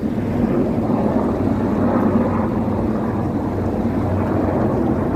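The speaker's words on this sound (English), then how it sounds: "A helicopter flyover." A loud, steady low rumble of a helicopter passing overhead during Fleet Week in New York City, droning continuously with some wind buffeting and no speech.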